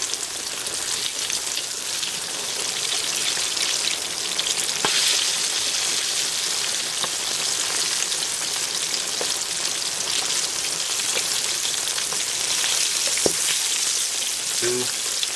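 Chicken frying in hot oil in a pan gives a loud, close, continuous sizzle with crackles and occasional pops throughout.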